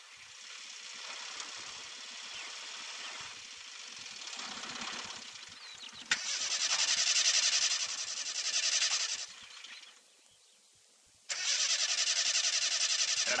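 A car engine cranks repeatedly without catching on a weak battery, long grinding bursts of starter whir broken by short pauses, loud and close, with no voices.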